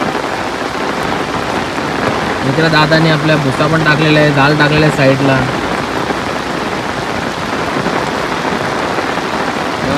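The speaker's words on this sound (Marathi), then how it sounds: "हो बघू शकता कसा पाऊस पडतं" Steady first monsoon rain falls on a riverbank in a loud, constant hiss, while someone speaks close by for a few seconds in the middle.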